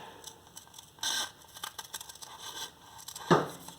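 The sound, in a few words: cutting paper with scissors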